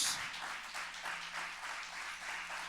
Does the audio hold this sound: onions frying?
no